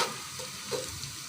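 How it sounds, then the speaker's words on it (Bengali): Onions fry in a pan with a steady, close sizzle and the scrape of stirring running throughout, with no talk. "এই যে পেঁয়াজটা আমার ভাজা হয়ে গেছে, বেশি লালচে করব না"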